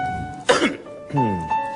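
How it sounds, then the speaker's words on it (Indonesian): Coughing from a man on a studio comedy set, one rough burst followed by a throaty, voiced cough, close and loud with a faint tone humming underneath. "Enggak, saya lagi batuk."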